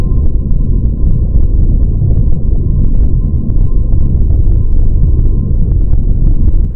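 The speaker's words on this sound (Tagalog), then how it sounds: "At ganito ang tunog ng Milky Way." Sonified Milky Way galaxy audio forms a dense, low rumbling hum with a faint steady tone above and scattered soft ticks, loud and constant for the whole stretch without voices.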